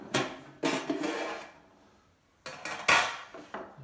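A metal Pullman bread tin, 13 inches long and 4 by 4 inches, rattles and clanks with its lid as it is handled, in two short clusters of clattering knocks separated by a brief quiet pause.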